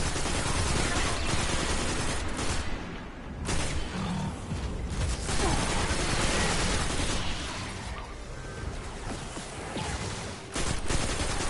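Rifle gunfire from a Hunter-class character in Destiny 2, a dense, loud, continuous barrage of shots with scattered blasts that fills the whole stretch, nearly unbroken, with faint game sounds underneath.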